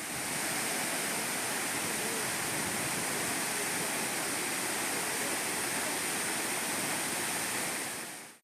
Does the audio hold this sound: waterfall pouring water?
yes